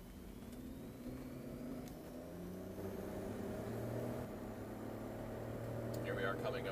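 A BMW X5 SUV cruises at high speed on a road over a bridge, a steady engine drone and rolling road noise throughout, with someone speaking over it.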